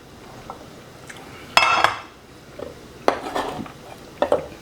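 Small pieces of smoked beef from a Vision kamado grill drop into a dish with a few sharp clinks and clatters, quiet handling sounds between them and no talking.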